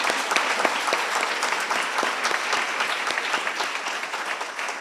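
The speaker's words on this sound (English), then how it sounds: "Can we give one round of applause to all presenters?" Steady applause from a colloquium audience for all the presenters, dense clapping at an even level throughout with no talk over it.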